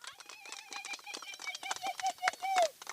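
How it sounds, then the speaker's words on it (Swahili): An audience claps at the launch of a Rotary jigger eradication project, a quick run of scattered, uneven claps. A voice talks over the applause throughout. "Tupige makofi jameni."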